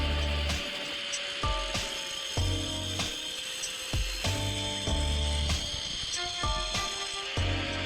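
Ratchet wrench tightening a bolt on a MotoVox minibike wheel, quick repeated clicking strokes in short bursts spread across the stretch, close by with a faint hum behind.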